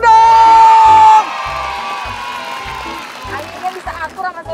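A group of people whooping and cheering after a loud burst of rhythmic music cuts off, the excited voices close by and rising toward the end.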